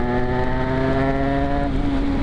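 An Aprilia RS 125 two-stroke motorcycle engine runs at steady high revs with strong harmonic tones, then shifts character near the end as the power valve opens; loud and close throughout, with no talk.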